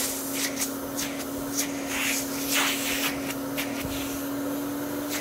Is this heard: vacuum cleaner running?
yes